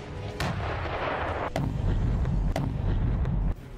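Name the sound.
T-30 122 mm artillery gun firing shells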